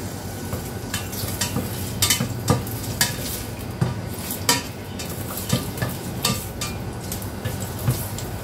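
Ginger sizzles and fries in a pan while a utensil stirs and scrapes, giving steady close sizzling punctuated by repeated sharp clinks of metal against the pan.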